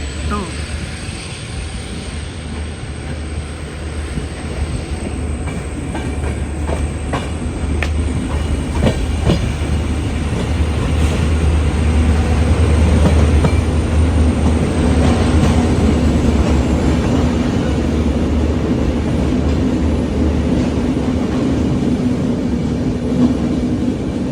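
Manipur Jan Shatabdi Express (Khongsang Jan Shatabdi) on the Agartala to Badarpur route, running with a steady, close rumble and rhythmic clickety-clack of wheels on rail joints throughout.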